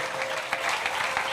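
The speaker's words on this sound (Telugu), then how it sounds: "చప్పట్లు కొడదాం దేవునికి" A congregation at a prayer meeting claps together for God, giving a brief burst of dense, even applause close by.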